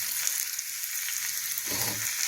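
Garlic paste frying in a pan after the gas has been turned off, a soft steady sizzle with a brief stronger crackle near the end.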